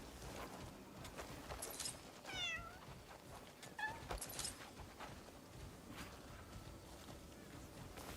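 A calico cat in the video game Crimson Desert gives a few short meows, spaced apart over a quiet, low ambient background.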